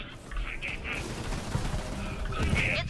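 Rapid gunfire in the video game Borderlands 3, a dense stutter of shots under a player's talk, with brief high electronic tones from the game.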